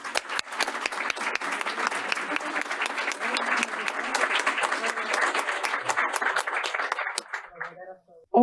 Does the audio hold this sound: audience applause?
yes